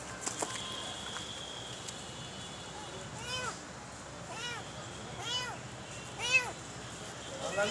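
A cat meows several times in quick succession near a vehicle, the short, fairly loud calls standing out over a steady background.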